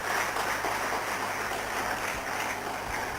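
Audience applause in a college conference hall, a continuous, even hiss of many hands clapping, heard from a distance and fairly muffled, with no talk over it.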